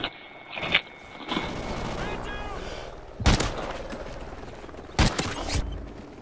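Video game gunfire: a few sharp, loud bursts of shots stand out over a steady mechanical background hum, spaced several seconds apart, each one brief and close.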